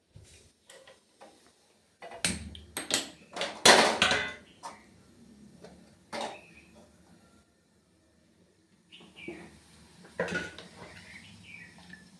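A metal kadai pan set down on a stove, with several sharp clanks and clatters of cookware in quick bursts, then quieter scrapes and knocks, close and dry in a home kitchen.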